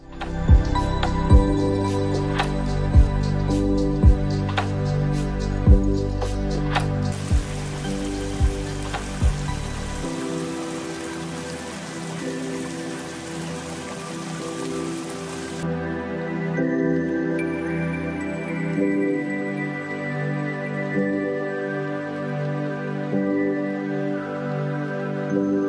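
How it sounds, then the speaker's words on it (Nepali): Phusre Khola, a river in Pokhara swollen after three days of rain, makes a dense rushing hiss for several seconds in the middle, with beat-driven music playing over it throughout. "यो खोलाको नाम फुस्रे खोला हो।"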